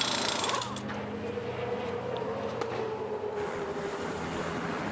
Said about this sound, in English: You can hear it scraping.